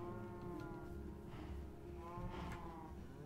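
Cows mooing in the Minecraft video game, two drawn-out moos with a pause between them, over a steady game background hum.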